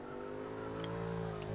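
A Jaguar F-Type Coupe's engine in the Forza 6 racing game holds a steady, fairly quiet drone. Its pitch rises slightly as it runs, alone without talk.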